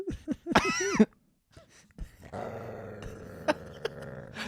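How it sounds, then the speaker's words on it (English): Dogs bark in quick, excited bursts, then settle into a low, rumbling growl with occasional sharp yelps, fairly close. "Those dogs are going ballistic."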